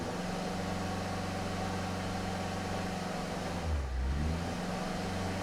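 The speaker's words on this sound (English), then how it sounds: "Doesn't seem to want to misfire now for some reason." The engine of a 2005 Honda Civic with a misfire and low power revs under load while the brake is held. It gives a steady loud drone that dips and stumbles briefly near the end. No one speaks.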